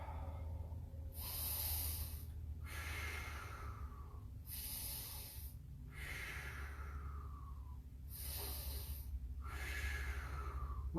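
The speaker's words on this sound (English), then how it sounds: "Take some nice breaths." Deep, slow breaths during an exercise routine, each inhale and exhale clearly audible and close, repeating in a steady rhythm of roughly four cycles over a constant low background hum.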